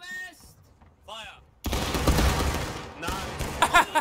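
A company of players fires a musket volley in the Civil War video game War of Rights, a sudden loud crackling burst after quiet commands, then scattered follow-up shots as voices call out.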